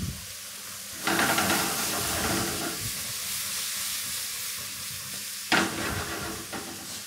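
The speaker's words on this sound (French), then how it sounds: "On va bien mélanger." Chopped shallot, garlic and cep mushrooms are stirred in a hot frying pan, with a steady close sizzle and two louder bursts of stirring and scraping.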